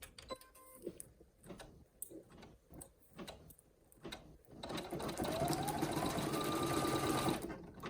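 An embroidery machine stitches a clear plastic stadium bag. Sparse mechanical ticks and clicks are followed by a loud, fast, steady run of needle strokes, close up, with no talking.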